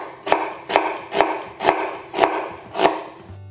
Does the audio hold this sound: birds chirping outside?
no